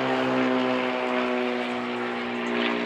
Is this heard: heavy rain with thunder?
no